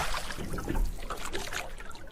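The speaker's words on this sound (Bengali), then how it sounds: "বাবা নৌকা ঘোরাও।" Water sloshes and trickles around a rowing boat as it is turned, a steady close lapping and dribbling with no talk.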